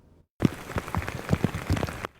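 Rain falls in Port Arthur on a day of early voting, a close, dense patter of drops striking a surface with scattered louder splats, starting abruptly after a moment of quiet.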